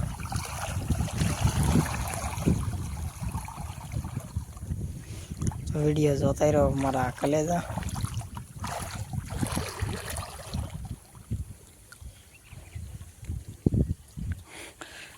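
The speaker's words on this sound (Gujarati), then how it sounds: "જો કેટલું ફાસ્ટ પાણી આવે છે" Fast-flowing irrigation water runs through a farm field planted with garlic, chili and onion, a steady broad rushing that continues under someone talking throughout.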